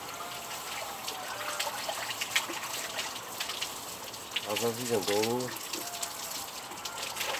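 Cold water splashing and gushing as someone takes a cold-water immersion in a tub, a steady close wash of water with a voice speaking briefly partway through.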